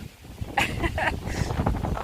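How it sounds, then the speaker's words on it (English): Strong, gusty wind sweeps across an open hilltop at Cissbury Ring near Worthing, heard from beneath a tree. It makes a steady broadband roar with louder buffeting gusts that batter the microphone. "It's getting very, very windy up here."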